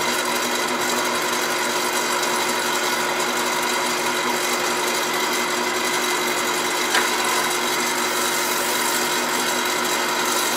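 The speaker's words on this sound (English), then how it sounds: "get into those beads a little bit with the corner of the sandpaper" Sandpaper rubs against the beads of a turned hardwood box spinning on a lathe, a continuous steady hiss and whir that stays loud and even throughout, with no talking.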